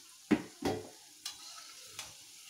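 Paneer kofta fry in hot oil while a utensil knocks four separate times against the pan, each clunk followed by a brief soft sizzle, close and quiet with no talking.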